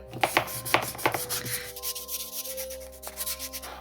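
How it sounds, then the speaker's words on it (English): Sandpaper rubs against the back of the knees of a custom one-of-a-kind Wednesday Addams doll, close and rhythmic, with quick scratchy strokes that are strongest early and then soften over a faint steady hum. "So I'm just gonna sand the back of her knees some more."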